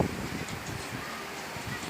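Strong wind from the mountains sweeps over a balcony in Batumi in late March, pushing toward the sea: a steady, fairly faint rushing and buffeting with no speech.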